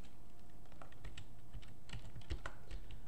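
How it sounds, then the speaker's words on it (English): Keys clack on a computer keyboard as code is typed, a quiet, irregular patter of close clicks in short bursts with no voices. "So I'm gonna type this as a string"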